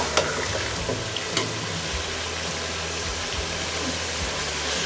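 Yogurt and spice masala for Pakistani layered chicken biryani sizzles steadily in a pot, a constant broadband frying hiss with a few light clinks of a utensil, close and unbroken, no talking.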